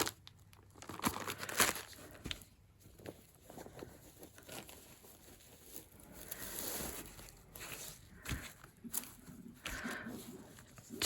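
Bundles of border fabric are handled and squeezed, giving repeated soft crinkling and rustling bursts close by, loud and irregular, with no talking.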